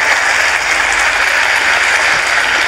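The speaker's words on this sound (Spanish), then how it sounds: "Dame, el aplauso fuerte para Sergio" Loud, steady applause fills a comedy-show audience for a contestant named Sergio, a dense wash of clapping with no talk over it.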